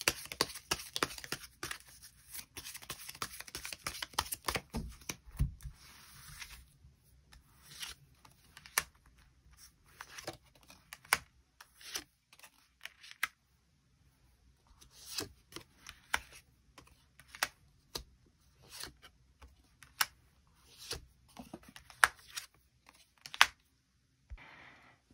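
Tarot cards being shuffled and drawn during a solo love-fortune reading: crisp, close snaps and riffling flicks, dense at first, then sparse and scattered with quiet gaps.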